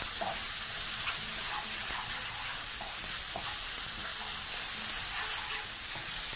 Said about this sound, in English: your sauteed omena is easily done